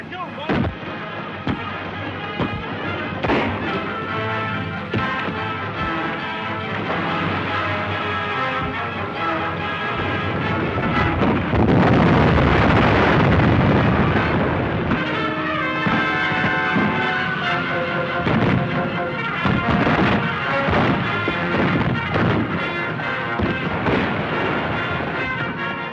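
Gunfire and explosive blasts in a battle scene from the 1931 western Fighting Caravans, loud and sustained with a dense burst in the middle, mixed with music and shouting voices.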